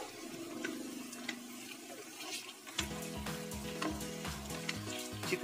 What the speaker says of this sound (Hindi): चिकन को शामिल करने के बाद इसको भूनेंगे